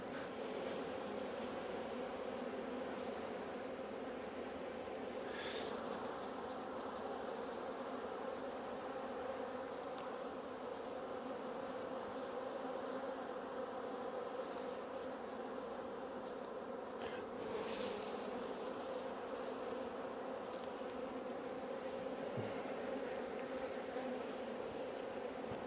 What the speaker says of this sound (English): When you got your head in there, you hear them buzzing.